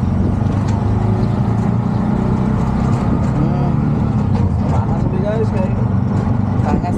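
Ride inside a motorized tricycle, its steady engine drone and road rumble running loud and continuous throughout, with people talking over it.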